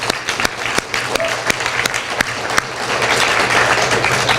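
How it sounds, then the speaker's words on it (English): Applause for student teams at a university event, starting with a few distinct claps and swelling into steady, fuller clapping from the room. "I think you all deserve a round of applause"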